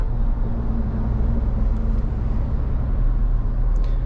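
A steady low rumble of a car cruising on an Indian highway at about 80 km/h, with constant road and engine noise from inside the vehicle.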